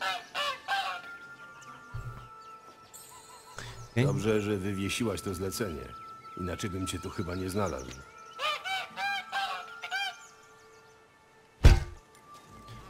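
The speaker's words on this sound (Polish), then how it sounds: "Gęś, co znosi złote jaja." A goose honks in a medieval fantasy video game, loud repeated nasal calls in several bursts, interleaved with a voice speaking over game sounds and a heavy thunk near the end.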